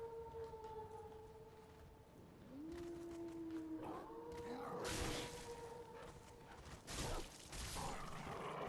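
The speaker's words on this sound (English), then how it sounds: "Them boys sound like owls more than wolves." Wolves howling in the video game Dark Souls 3, with a hooting, owl-like tone: long, steady tonal calls that overlap and glide, under game sounds and a few louder bursts.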